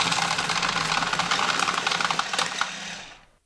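An electric card shuffler buzzes and whirs loudly and continuously for about three seconds, with a dense mechanical rattle of cards riffling together, then winds down and stops abruptly, close to the listener with no voices.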